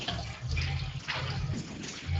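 Tap water runs steadily while hands are rinsed under the faucet at a sink, a continuous close splashing hiss with a low hum beneath it.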